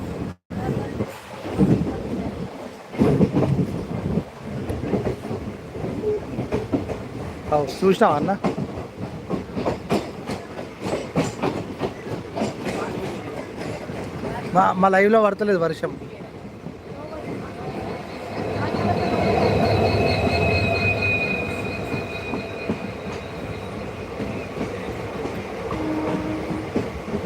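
A train runs along a pair of railway tracks in Telangana, a steady rumbling roll with clickety-clack building in the second half, mixed with nearby people talking and outdoor noise.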